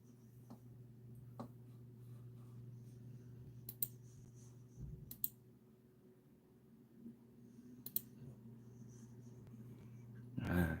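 A computer faintly whirs with a steady low hum, broken by a few sparse, sharp clicks spread out over a quiet room.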